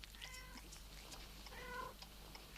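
Several cats meow in short, repeated calls, quiet and fairly close, over a low steady hum with no one speaking.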